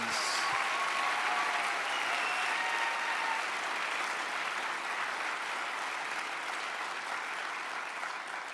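Audience at a baccalaureate ceremony gives a sustained round of applause for staff and students, a full, even roar of many hands clapping that holds steady and eases slightly toward the end.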